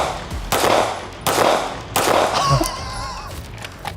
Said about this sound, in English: I only fired 3 out of the 4 shots within the 8-second window